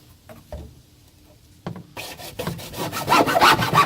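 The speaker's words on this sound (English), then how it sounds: "we're going to take the hacksaw and cut off this nipple" A hacksaw cuts through a pipe nipple on a backyard sump basin, starting with a few scattered knocks and scrapes, then settling into steady, close, increasingly loud back-and-forth rasping strokes.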